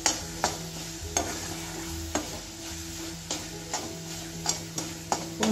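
Grated coconut and jaggery being stirred in a pan over low heat, with a soft sizzle under repeated sharp scrapes and taps of the spoon against the pan at an irregular rhythm.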